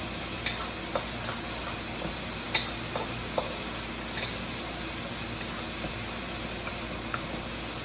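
Shrimp fry for shrimp fried rice in a hot, smoky pan, making a steady sizzle broken by scattered sharp spatters and ticks that stay close and moderate in level.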